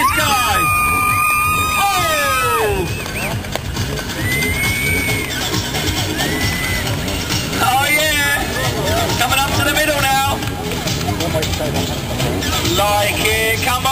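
Crowd at a motorcycle stunt show at Wembley cheers and shouts for a rider doing wheelies, a loud continuous babble of voices with bursts of screaming and whistles, a compère talking over it throughout.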